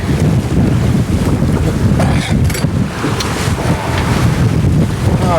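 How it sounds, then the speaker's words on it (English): Strong wind buffets a microphone aboard a sailboat in about ten knots with gusts, a loud rushing roar with water and hull noise beneath and brief louder puffs. "We've got perhaps a steady 10 knots of wind with puffs up to perhaps 13."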